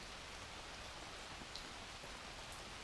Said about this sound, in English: I can still see that it's still raining pretty heavily out there